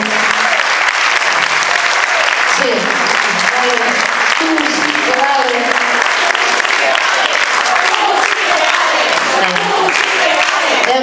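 Audience applause at a country line dance association event, dense, loud and sustained, with a crowd murmur and voices talking and calling out over it.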